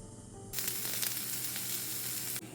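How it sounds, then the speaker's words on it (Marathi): A ground paste of onion, coconut, ginger and garlic roasts in a pan. A soft, even sizzle starts suddenly and holds steady, fairly faint, with no voices. "हे आपलं वाटण सर्व भाजून झालेलं आहे"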